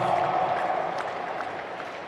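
A tennis crowd at the United Cup in Sydney applauds a shot, a short wash of clapping that fades slightly as it goes.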